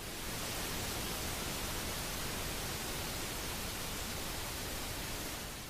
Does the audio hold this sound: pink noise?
yes